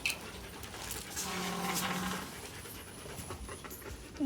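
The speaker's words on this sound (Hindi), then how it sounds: "क्यों भौंकता भौंकता आ रहा था?" A dog pants quickly and rhythmically close by on a hot day in an Indian home, a soft, continuous huffing with a faint tonal hum in the background and no clear barks.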